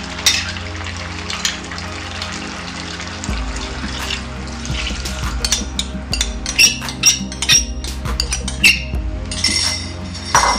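Chicken curry with coconut milk being stirred in a pan, a spoon clinking against the metal amid wet sloshing and bubbling, repeated scrapes and taps over a steady musical backing.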